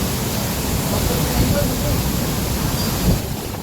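Water spray blown by the wind near a flowing mountain stream, a continuous broad rushing wash that stays loud and steady throughout, with voices faintly underneath.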